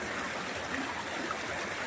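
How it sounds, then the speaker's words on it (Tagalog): Water running steadily along a channel in front of a house, a continuous close rushing and gurgling flow with no voices. "Ayan, dire-diretso na yung tubig."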